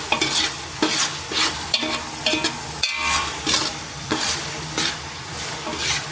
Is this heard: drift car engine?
no